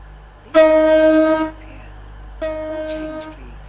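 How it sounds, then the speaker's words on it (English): Stepford County Railway video game train sounding a horn on arrival at a platform: two harmonic blasts, a long one then a shorter one after a pause, loud over a low steady rumble. "The train now approaching platform 4 terminates here."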